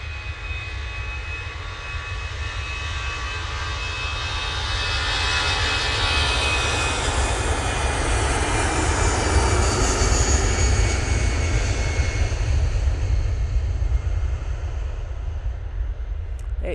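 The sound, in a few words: easyJet airliner taking off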